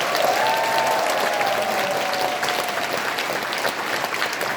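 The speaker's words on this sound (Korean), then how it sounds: "이 계양에 오심을 환영한다는 격려의 박수를 한번 보냅니다" A crowd at a town-hall meeting in Gyeyang, Incheon, applauds to welcome the mayor: full, even clapping from many hands, steady throughout, with a faint voice briefly audible early on.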